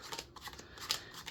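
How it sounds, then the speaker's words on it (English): Playing cards dealt one at a time into two piles, giving soft, quick flicks and light card-on-card taps in a steady rhythm, close and quiet. "Just deal the 2 packets out until you run out of cards."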